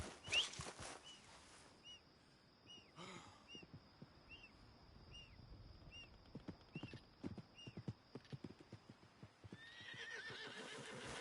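A horse whinnies loudly at the start in Red Dead Redemption 2, followed by steady hoof clip-clops and faint bird calls in a quiet outdoor setting, ending with another neigh.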